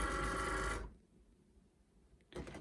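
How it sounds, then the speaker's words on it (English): A Cricut Maker cutting machine whirs briefly as it pulls the mat inside, then goes quiet. A short mechanical buzz returns at the very end. "we're going to put my mat in and hit that button to feed it into the machine"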